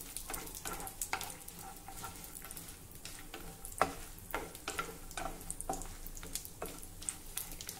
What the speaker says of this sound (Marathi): तूप गरम झालं की त्यामध्ये काजू आणि बदामचे तुकडे घालूया आणि हे आपल्याला थोडे परतवून घ्यायचे आहे